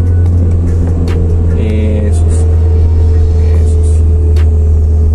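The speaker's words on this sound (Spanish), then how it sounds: "Y vas acelerando nuevamente." Steady, loud engine drone of a car gently accelerating during a beginner's first driving lesson, heard from inside the cabin, with a constant low hum and a brief word spoken partway through.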